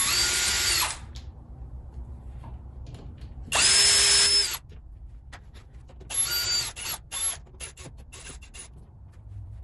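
A cordless power drill whirs in three bursts as it backs out corner screws from a pinball machine's screen bezel, each burst loud and high-pitched, followed by scattered clicks and short ratcheting taps.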